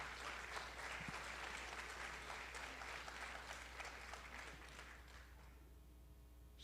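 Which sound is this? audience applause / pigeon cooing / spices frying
audience applause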